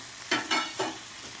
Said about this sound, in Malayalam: ഇതിലേക്ക് നമ്മൾ വറുത്ത് വെച്ചിരിക്കുന്ന കറിവേപ്പിലയും ചുമന്ന മുളകും ഇട്ട കൊടുക്കുന്നു